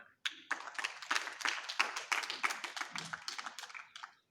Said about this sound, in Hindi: मैं चाहता हूं कि आप लोग एक बार जोरदार तालियां बजा दें